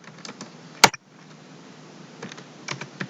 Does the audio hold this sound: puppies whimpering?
no